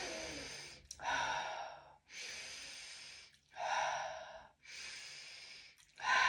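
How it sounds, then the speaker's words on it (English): Deep breaths in a breathing exercise come in a slow rhythm of long, loud, airy exhalations with brief pauses between, close to the listener, about five breaths in all. "stick out the belly a little bit, and 3 mouth breaths"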